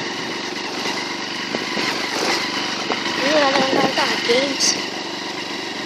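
A motorcycle engine idles and revs nearby with a steady buzzing drone, while someone talks over it throughout.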